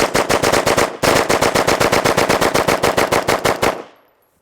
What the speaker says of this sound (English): That was a little bit of bump fire because I was holding it loose.